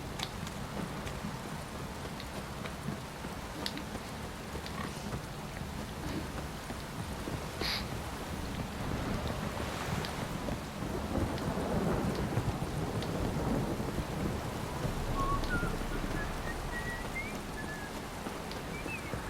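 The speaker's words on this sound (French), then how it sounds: "Putain d'averse." Steady heavy rain pours throughout a stormy scene in the video game The Witcher 3, with low rolling thunder swelling midway and faint scattered hoof-like clopping beneath the downpour.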